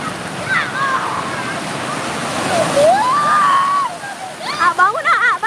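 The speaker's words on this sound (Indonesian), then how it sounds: "ombaknya gede" Big ocean waves wash and splash in a loud, continuous surge close by, while people talk and a voice rises over the surf.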